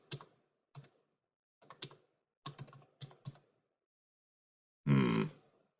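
Keys clatter on a computer keyboard in short, uneven bursts of a few clicks each, close and clear against silence, ending in one louder, longer clack.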